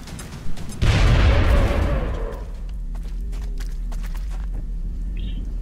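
A grenade goes off in the game XCOM with one loud blast, a broad booming burst that rolls into a rumble and tails away over a couple of seconds. Quieter thumps and ambient hum follow.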